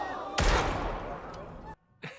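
A single sharp gunshot from a Squid Game season 2 episode bursts out, then reverberates and fades over about a second before cutting to silence, with a faint voice right after.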